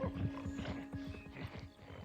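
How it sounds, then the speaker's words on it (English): A cartoon ostrich-horse creature from Avatar calls out with a rapid series of rough, throaty snorting pulses, moderately loud and close, with no talk over it. "He's giving him the horse chicken creature"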